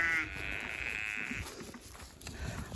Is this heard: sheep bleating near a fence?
yes